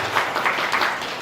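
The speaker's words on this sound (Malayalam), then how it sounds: "എല്ലാവരും ചേർന്ന് ഒരു നല്ലൊരു കയ്യടി" Brief burst of applause from an audience at a school gathering, a dense even patter of clapping hands at moderate volume.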